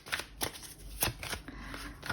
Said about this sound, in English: and I'm just going to keep on shuffling.